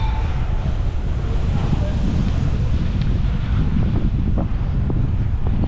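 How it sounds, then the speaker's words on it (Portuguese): Strong wind blows across the microphone in a steady, loud rumbling gust that persists throughout, with no clear voices. "Acho que o vento está contra, não está a favor."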